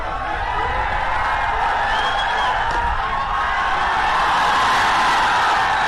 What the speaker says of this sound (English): you can see the crowd cheering for Nepal